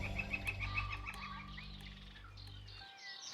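Several birds call and chirp outdoors in a quiet spot in Oregon sagebrush, over a steady low hum, with high whistling notes scattered throughout.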